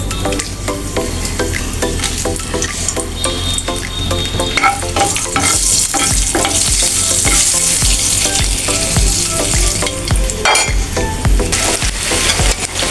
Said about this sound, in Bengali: শুকনো মরিচ ভেজে নিচ্ছি